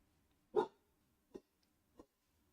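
A dog barks at a package delivery at the door: one loud bark followed by two shorter, quieter ones, spaced apart with silence between.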